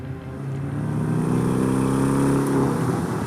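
Porsche 718 Cayman S with a turbocharged four-cylinder engine pulling hard, a throaty buzzing drone rising and swelling steadily, loud and close with no talk.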